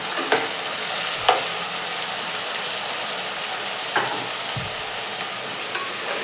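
Onions and tomatoes frying in a pan for tomato bath, a steady broadband sizzle with a few sharp clinks of a stirring spoon against the pan scattered through, close and fairly loud, no talking.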